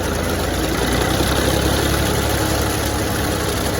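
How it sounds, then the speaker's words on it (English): A Fordson Dexta tractor drives a Ford 501 sickle mower, heard as a steady loud engine drone with even mechanical clatter and vibration from the reciprocating cutter bar, continuous and close with no voices. "Where you get that nice, even clattering sound, or, you know, of this bar going back and forth"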